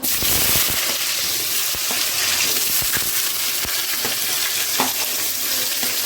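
Onions and green chillies sizzle steadily in hot oil with fried fenugreek seeds for a Sankara fish curry, a loud, dense frying hiss with occasional stirring clicks, no voices.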